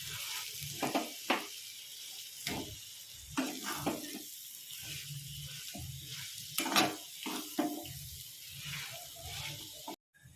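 Potato chutney sautéing in a pan, heard as a soft sizzle under repeated scraping and stirring knocks that come in irregular bursts, fairly quiet and close.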